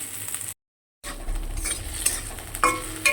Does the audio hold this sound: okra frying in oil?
yes